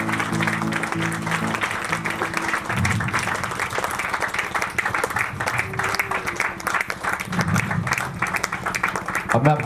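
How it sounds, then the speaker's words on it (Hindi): Church congregation at a large Hindi-language healing and prayer gathering clapping loudly and steadily throughout, a dense continuous wash of applause with music and a voice underneath. "जोर से ताली बजाओ, जोर से।"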